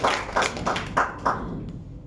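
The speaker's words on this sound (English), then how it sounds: "Please give us a big round of applause for VK Pharma and for this part." A short run of rhythmic group clapping at a cricket league player auction in a banquet hall, about five evenly spaced bursts that thin out and fade, with no talking.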